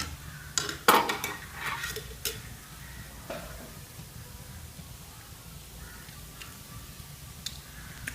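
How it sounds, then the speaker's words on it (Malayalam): A spoon scrapes and clinks against a pan while carrot thoran cooks, with a few clattering knocks near the start, then a soft, faint sizzle and quiet stirring noise. "നന്നായിട്ട് എല്ലാ ഭാഗത്തുനിന്ന് മിക്സ് ചെയ്ത് കൊടുക്കുക"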